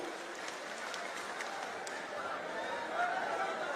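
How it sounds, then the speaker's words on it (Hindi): Applause and cheering from a crowd at a political rally in Madhya Pradesh, a steady broad wash of clapping that holds at moderate level throughout, slightly swelling near the end. "जोरदार तालियों देकर जीतू पटवारी जी को बुलाए।"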